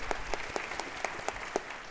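Audience applause at a Music Center gala celebrating the 2022 Spotlight Grand Prize finalists, a steady patter of clapping with sharper individual claps popping out at an even pace, no voices over it.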